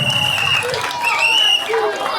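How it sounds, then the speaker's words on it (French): An audience at a school party applauds a pupil, moderate clapping under high whistling or cheering voices and some chatter. "On va l'applaudir, s'il vous plaît."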